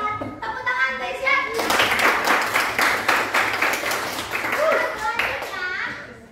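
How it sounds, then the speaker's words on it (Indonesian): Brief burst of hand clapping in an Indonesian teacher-training classroom session, children's voices heard before and after the clapping, which rises loudly in the middle then fades as speech resumes. "Tepuk tangan untuk Irsya."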